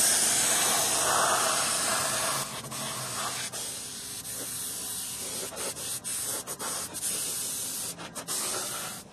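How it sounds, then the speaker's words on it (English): Airbrush spraying diluted paint, a close, steady hiss of air and paint that sputters and cuts in and out during the second half, with no voices. "Plug this into our airbrush and spray it."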